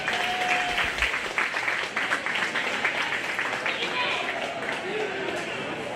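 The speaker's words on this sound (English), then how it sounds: "Give them a nice round of applause." Audience applause for young 4-H/FFA sheep show exhibitors at a county fair livestock show, steady clapping through the whole stretch with voices and crowd noise mixed in.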